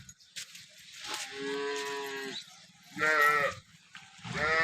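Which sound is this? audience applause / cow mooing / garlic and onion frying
cow mooing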